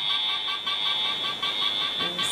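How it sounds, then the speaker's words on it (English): A Fireman Sam toy rescue station sounds its master alarm, a steady high electronic tone pulsing continuously and fairly loud, alone throughout. "There is a master alarm."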